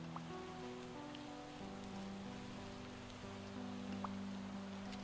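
Steady rain falls on a surface, a soft continuous patter at low level, with a faint sustained musical tone underneath and no voices.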